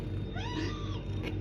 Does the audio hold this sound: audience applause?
no